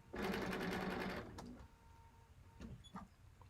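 Sewing machine tacking down stitches during straight line quilting, a fast close mechanical run for about a second, then stopping, followed by faint handling noises and quiet clicks.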